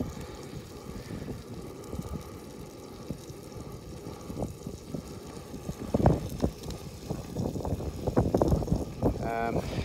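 Wind on Dartmoor during a solo wild camp blows across the microphone with low rumbling gusts, alongside rustling and handling noises close by, and a person talks intermittently.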